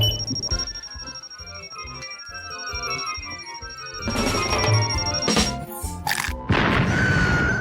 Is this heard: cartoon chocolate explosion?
yes